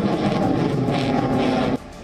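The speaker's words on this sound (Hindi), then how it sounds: "भारतीय वायुसेना के सबसे अहम रफाल और तेजस ने कलाबाजियां दिखाई" Rafale and Tejas fighter jets fly aerobatics at the Aero India air show, a loud, continuous broadband roar that fills the air, then drops away sharply near the end.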